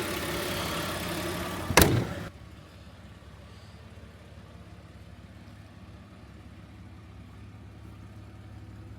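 An Audi 80 2.6 V6 catches with a short, loud burst as it starts, then settles into a steady, low, even idle that continues alone for several seconds.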